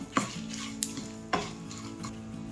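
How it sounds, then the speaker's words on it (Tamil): Potatoes frying in a pan until crisp: a few sharp clinks of a utensil stirring against the pan stand out over a low, steady sizzle, with no talking. "நல்லா முறுமுறுன்னு ஆகிற வரைக்கும் வறுத்துக்கணும்"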